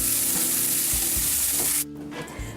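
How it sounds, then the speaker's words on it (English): Pork chops sear in a hot skillet with a loud, steady sizzle that cuts off abruptly, leaving a few quiet clinks and faint crackles. "we're going to load the skillet one more time"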